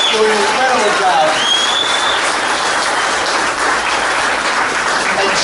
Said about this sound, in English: let's give a big round of applause to Caroline